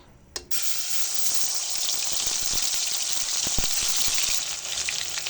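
Ground paste of cumin, onion and dried chilli dropped into hot mustard oil: a sudden burst of loud, bright sizzling that keeps hissing steadily close up, with scattered pops and crackles.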